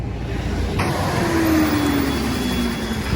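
A vehicle slowing to a stop on a snowy mountain road in Tawang: a close engine rumble with a falling drone as it slows, set in steady road noise, with no talking.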